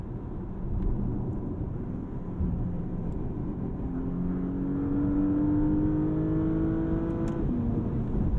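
A 2021 Porsche Panamera engine accelerating hard toward its redline near 6,800 RPM, a rising droning whine under a low rumble heard from inside the car, building steadily over several seconds before a quick shift.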